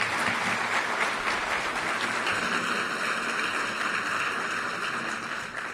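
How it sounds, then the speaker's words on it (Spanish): Audience applause at the Empresaria del Año award ceremony, a thick, even wash of clapping from a large crowd sustained for several seconds, easing slightly toward the end. "Un aplauso para ello"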